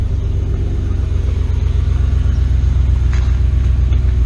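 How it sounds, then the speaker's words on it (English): A new truck's engine idles with a steady, deep, loud low rumble that stays even from start to finish, with no revving and no voices. "That's how a truck should sound."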